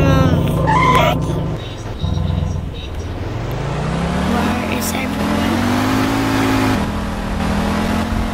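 A car driven in the Roblox video game gives a loud, continuous engine drone whose pitch climbs steadily as it accelerates, mixed with other game sounds.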